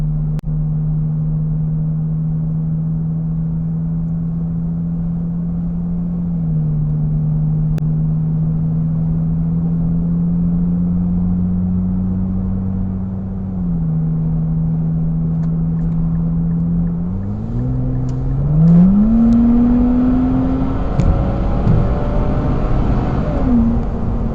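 Car engine intake drone while driving on a road, a steady low hum that holds level, then rises and sweeps upward near the end as the car accelerates, with no talking.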